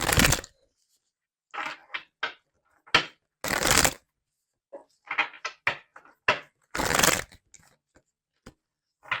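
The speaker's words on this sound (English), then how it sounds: "let's get some more cards to see more of what's going on here" Tarot cards are shuffled in a quiet room: short, crisp bursts of riffling and slapping, spaced irregularly with silences in between. The sound is close by and moderately loud, with no voices.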